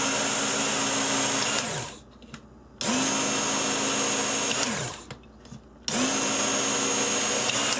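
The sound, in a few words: belt sharpener running finishing belt on a knife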